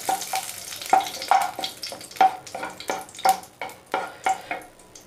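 Dry red chillies and bay leaves sizzle in hot oil inside a pressure cooker over a medium gas flame. A spoon scrapes and stirs them in a steady, repeated rhythm, close by.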